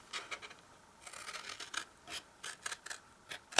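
Scissors snip through cardstock while a square and a panel are trimmed away for a double-ended Christmas treat box, giving a string of short, close, crisp cuts and rasps with small pauses between them.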